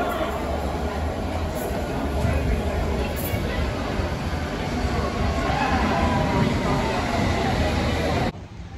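A London Underground train at King's Cross station roars steadily in a busy, echoing space under a constant broadband rumble and crowd murmur, then cuts off abruptly near the end.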